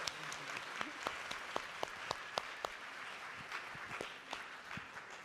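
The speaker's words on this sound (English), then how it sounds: "well, a round of applause." A small audience at a women's presidential delegate camp applauds quietly and unevenly, with a few distinct claps standing out over a soft wash of scattered clapping that continues throughout.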